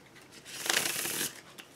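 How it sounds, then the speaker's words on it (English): A new NOC v3 deck of playing cards is riffle shuffled once at close range, a brief soft burst of fluttering card flicks in a quiet room. "Riffle Shuffle's fine."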